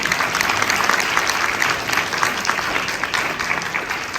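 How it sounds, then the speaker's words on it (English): Steady, dense applause rises from the audience at an ophthalmology awards ceremony in New Orleans, a full room clapping continuously at even loudness for several seconds without any speech over it. "Please give him a round of applause."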